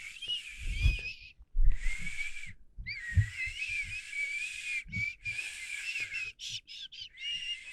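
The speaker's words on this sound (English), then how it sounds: "I whistle." Shrill, wavering whistling in repeated bursts with brief gaps, close and fairly loud, over low thumping and handling noise.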